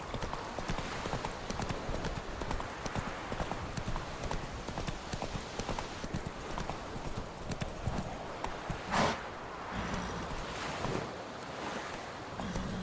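Roach the horse galloping in The Witcher 3, with rapid, steady hoofbeats over a whooshing wind and wave-like rush and a short vocal burst partway through.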